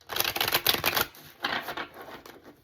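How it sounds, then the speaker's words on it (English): A deck of tarot cards is quickly shuffled close up, giving a dense riffling flutter in two bursts with a short pause between them. "Quick shuffle, quick shuffle."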